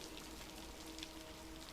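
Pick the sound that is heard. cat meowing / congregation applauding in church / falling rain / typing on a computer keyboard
falling rain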